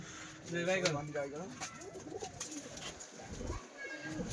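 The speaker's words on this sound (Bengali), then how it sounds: "পায়রাগুলো সব দেখো তোমরা, সব সেলে আছে" Giribaz pigeons coo softly and repeatedly up close, their throaty calls overlapping with some rustling and nearby voices.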